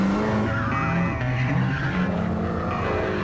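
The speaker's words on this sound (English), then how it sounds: "Mark Tierney, in his 1965 Ford Mustang, put this old girl through her paces." A 1965 Ford Mustang at a gravel rally roars at high revs close by, its engine note sustained and loud as the tyres skid and slide, with no voices.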